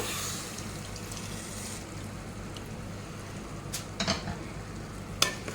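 Tamarind juice being stirred into a prawn kheema ball curry in a pot: a steady bubbling, simmering hiss with a few light spoon clinks and scrapes toward the end.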